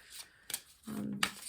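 Tarot cards being shuffled up close: a couple of quick riffling snaps followed by a longer ruffling shuffle, quiet surroundings.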